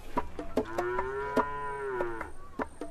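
Cattle lowing in a West African livestock setting within the tsetse belt, several drawn-out moos overlapping with sharp clicks or knocks, fairly close and steady with no talking.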